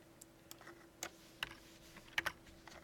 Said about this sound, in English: I'm sure I'm doing a lot of typing